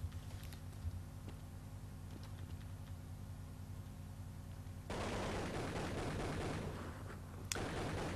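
Sniper rifle shots ring out in an online video game match, a few sharp cracks over a low hum, with a louder burst of crackling noise in the latter half and one more distinct shot near the end.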